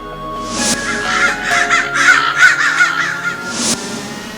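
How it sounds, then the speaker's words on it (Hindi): Cartoon crows caw loudly in a rapid, overlapping chorus of harsh calls, bracketed by whooshing effects, with no talking over them. "काले कौवे।"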